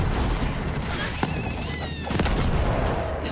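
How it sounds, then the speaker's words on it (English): Pistol gunfire in Borderlands 3, a few sharp shots cutting through a dense, steady wash of game noise and effects, with no clear pauses between sounds. "Alright, show me what that pistol do, bruh."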